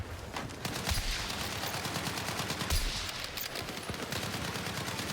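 Battlefield 6 gunfire in a multiplayer match: rapid automatic bursts and overlapping shots crackle continuously, with several louder booming impacts standing out from the steady barrage.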